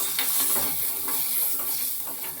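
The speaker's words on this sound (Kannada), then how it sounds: "ಫುಲ್ ಲೋ ಫ್ಲೇಮಲ್ಲಿ ಫ್ರೈ ಮಾಡ್ಕೊಳ್ತಾ ಇದ್ದೀನಿ." Cashews fry in a little oil on a low flame, giving a steady close sizzle with soft stirring scrapes and no talk.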